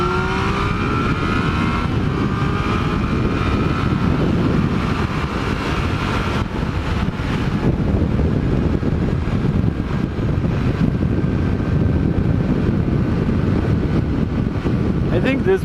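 Yamaha FJ-09 motorcycle ridden on a daily commute, its engine droning steadily as it pulls and accelerates under heavy wind rush on the microphone, loud and continuous, with no clear talk.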